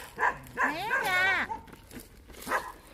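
Black dogs barking and yelping in a remote rural spot, several sharp barks and a drawn-out whining howl close by, with a person's voice speaking over them.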